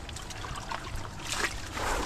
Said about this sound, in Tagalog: Irrigation po ng tubig.